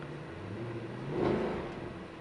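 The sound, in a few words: Mercedes-Benz C63 AMG engine starting and rumbling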